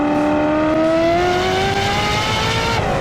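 Ferrari F40 engine revving steadily upward, a loud close tonal roar that climbs in pitch over about three seconds without a break.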